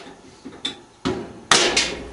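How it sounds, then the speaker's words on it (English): Several sharp metallic knocks as a hammer drives a chisel into plastic on a dryer motor shaft: a few separate close strikes, growing louder, the last two hitting hardest. "Use a hammer and a chisel or a hammer and a screwdriver and start chipping away the plastic pieces from the motor shaft"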